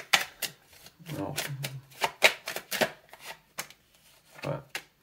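Tarot cards are handled and laid down, giving crisp papery taps and slides that come in scattered bursts, close by, while someone speaks French throughout.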